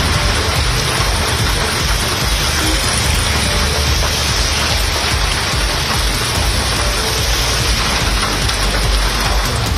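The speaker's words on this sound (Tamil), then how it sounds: "சென்னை நகர் மற்றும் புறநகர் பகுதிகளில் நேற்று காலை முதல் இரவு வரை கனமழை கொட்டி தீர்த்தது." Heavy rain pouring down over Chennai city and suburbs, a loud, dense, steady roar of downpour that continues unbroken throughout with no voices.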